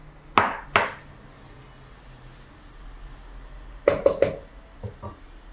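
Fried chicken pieces dropped into a pan with ginger and garlic for restaurant-style chilli chicken, giving a few sharp clanks and clinks of metal utensils against the pan, two near the start and a cluster later, with quiet kitchen background between.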